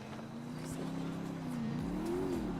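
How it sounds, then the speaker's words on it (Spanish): A suspicious SUV approaches in a roleplay video game, its engine a steady low hum that rises slightly in pitch as it draws nearer, heard alone without talk. "Viene un todoterreno sospechoso."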